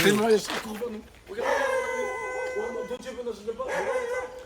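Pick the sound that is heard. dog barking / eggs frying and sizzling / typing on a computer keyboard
dog barking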